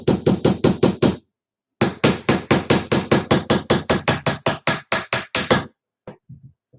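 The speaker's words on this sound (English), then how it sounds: "I'm not nailing in where the accordion parts are" Rapid bursts of hammer blows drive nails into the backing plate of a homemade shelf, several quick even strikes, a short pause, then a longer run of close, loud, sharp hits ending in a few lighter taps.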